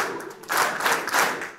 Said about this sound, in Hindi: एक बार ताली हो जाए. अब अगर इसी ताली की टोन बदल दे तो क्या हो जाएगा?